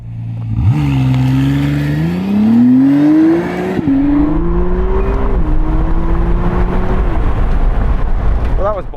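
A McLaren Artura's engine revs in launch procedure, the note climbing loudly, dropping and rising again in stepped surges, then settling into a steady hum before fading.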